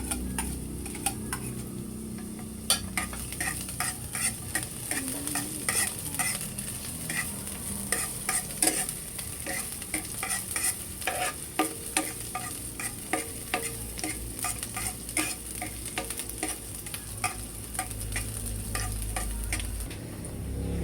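Garlic and onion sautéing together in hot oil in a pan, a continuous close sizzle broken by dense, rapid ticking spatter and stirring clicks throughout, with no talking.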